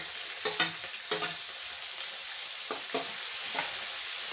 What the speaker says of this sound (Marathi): जिरे थोडेसे भाजू द्यायचे, तेलात तळू द्यायचे. त्यानंतर आपण हे टोमॅटो घालतो.